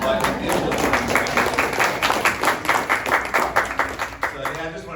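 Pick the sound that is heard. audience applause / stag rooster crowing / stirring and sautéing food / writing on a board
audience applause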